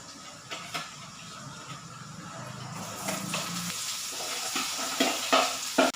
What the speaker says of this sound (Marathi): आता आपण कांदा आणि भोपळी मिरची टाकून घेणार आहोत।